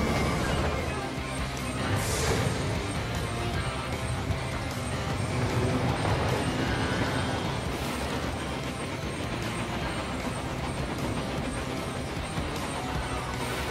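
The diesel railcar Norman speeds down the line with a dense, continuous engine roar and rattling wheels, heard close and loud throughout with brief hissing swells.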